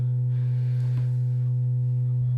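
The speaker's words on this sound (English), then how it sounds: "something approximating a sine wave." A Serge synthesizer oscillator routed through a wave multiplier puts out a steady, loud, nearly pure sine-like tone with faint harmonics, droning continuously with a couple of soft clicks from patching or knob movement.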